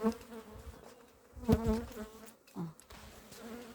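Honeybees fly around the hives of a spring apiary beside rapeseed in bloom, a steady close buzzing hum with individual bees droning past louder at moments.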